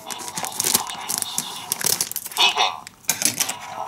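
A Hot Wheels surprise packet is torn open up close, with crinkling plastic, tearing and rustling in irregular bursts, along with brief taps and handling noises.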